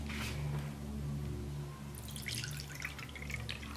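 Rice water strained through a sieve into an empty bowl, a close trickle and drip that turns into scattered splashy droplets partway through, over a low steady hum.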